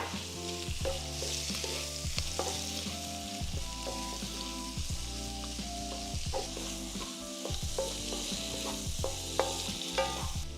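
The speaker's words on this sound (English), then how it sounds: "I'm gonna go ahead and add my shrimp now." Shrimp frying with Spam in a pan for shrimp fried rice, a steady loud sizzle with repeated scraping stirs and clanks throughout, no voices.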